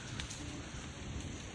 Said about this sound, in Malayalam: രാവിലെ തന്നെ മഴക്കാറൊക്കെ നല്ല കിട്ടിലൻ ക്ലൈമറ്റും തകർത്ത് പെയ്യുന്ന മഴയും.